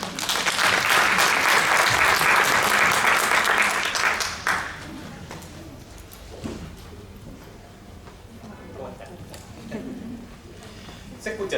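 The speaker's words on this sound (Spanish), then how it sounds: "Lo recibimos con un fuerte aplauso" Loud applause from a conference audience welcoming a speaker at a talk on chronic pain management in emergency care, dense clapping for about four seconds before fading into quiet room noise and a few soft knocks.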